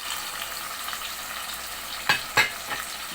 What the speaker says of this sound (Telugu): మొత్తం కలుపుకొని కట్ చేసుకున్నవన్నీ ఇలా ఆయిల్ వేసేసుకోవాలి.